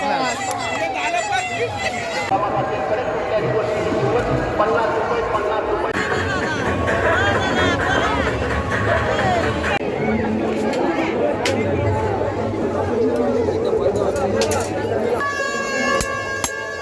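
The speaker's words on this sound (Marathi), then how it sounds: "गाईज खूपच गर्दी आहे पॉसिबल" A packed crowd at the Mhasa village fair in Thane district murmurs in a constant loud babble, with horns honking and voices chattering nearby throughout.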